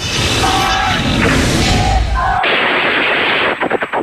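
Gunfire during an armed clash in the Zamboanga crisis in the Philippines: loud, dense bursts of shots under a harsh, noisy background, ending in a quick series of sharp separate cracks.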